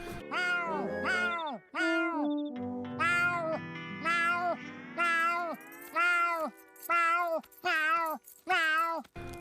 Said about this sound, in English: like he won't stop meowing.